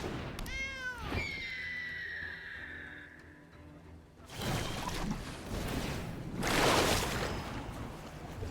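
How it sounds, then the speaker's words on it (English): Cat meows from a video game based on a Magic card game set: a quick run of short meows, then a long drawn-out cry, followed by louder whooshing game effects, with no talking. "Cat."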